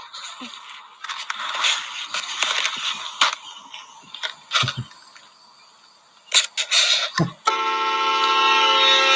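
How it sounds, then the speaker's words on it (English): A very loud vehicle horn on a motorcycle on a cross-country bike trip, ending in a sustained blaring blast after scattered clicks and rustling. "Go ahead, hit the horn. It's really loud."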